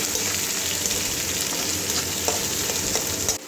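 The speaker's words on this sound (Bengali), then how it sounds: "পেঁয়াজটা ভেজে নেব।" Onions frying in oil after whole cumin and whole garam masala go into the pan, for a Bengali pointed gourd and prawn curry with potatoes. A steady, close, loud sizzle runs throughout, with faint stirring clicks, and cuts off near the end.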